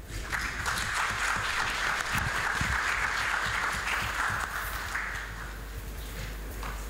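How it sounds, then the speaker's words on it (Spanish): Sustained applause from a large audience at the opening of an international teachers' congress, a dense even wash of clapping that holds steady for several seconds and eases slightly toward the end. "Fuerte el aplauso, por favor."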